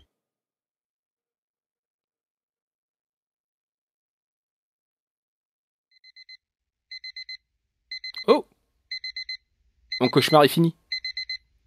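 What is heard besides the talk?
alarm clock ringing in the video game Dungeon Nightmares 2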